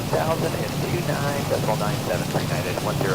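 Rain in the X-Plane 12 flight simulator patters steadily across a cockpit during an interCaribbean Airways flight, with voice-like sounds layered over the constant hiss.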